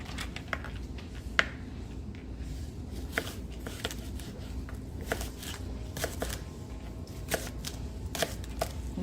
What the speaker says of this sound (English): scallions, cutting that up.